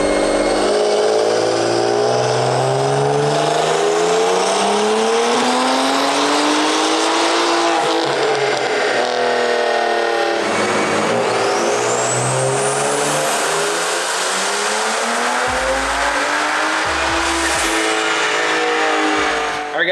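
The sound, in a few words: turbocharged BMW F30 335i revving on a dyno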